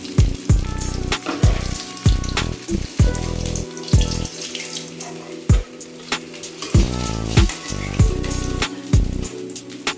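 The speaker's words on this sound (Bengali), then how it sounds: "এইভাবে আর মাছগুলো ভেজে" Koi fish frying in oil, a crackling sizzle broken by loud, repeated knocks and scrapes of a utensil against the pan, close and with no voices.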